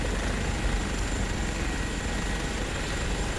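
A helicopter in Microsoft Flight Simulator gives a continuous, loud rotor and engine drone with a dense, steady rumble and faint blade chop, and no break throughout.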